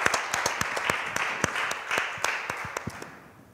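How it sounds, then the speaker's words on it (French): A church congregation claps for the Lord in a steady, rhythmic beat during a worship service. The many hands sound moderately distant and even, with no voices over them. "Let's clap for the Lord."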